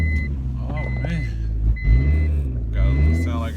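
A 2004 car's engine idles with a small exhaust leak, giving a low, steady rumble with a brief swell, while a beeping tone and voices come and go on top.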